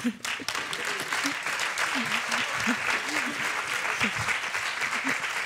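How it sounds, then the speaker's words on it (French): Steady applause from a large audience fills the room, dense clapping sustained throughout with a few voices mixed in underneath. "je voudrais qu'on applaudisse aussi beaucoup Léo Campagne-Lavoine"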